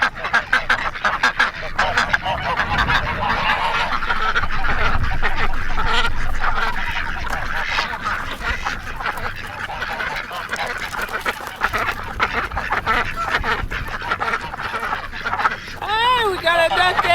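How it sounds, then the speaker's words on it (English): Farm ducks quack and honk in a busy, continuous chorus close by, with people talking over them throughout. "The ducks are all waiting."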